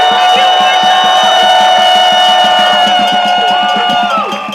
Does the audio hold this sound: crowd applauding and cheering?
yes